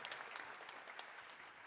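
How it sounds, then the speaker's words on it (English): Audience applause for soloists at a spring steel band concert, a steady dense wash of clapping that holds at a fairly even level from start to finish with no voices over it. "let's give another round of applause for the soloists on that one, please"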